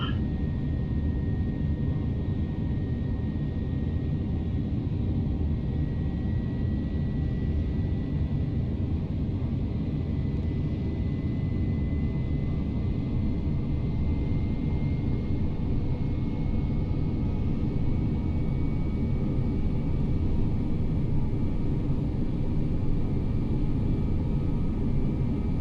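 A Boeing 737-800 jet in Microsoft Flight Simulator X roars down the runway for takeoff from Birmingham, a steady loud low engine rumble with a faint whining tone sustained throughout.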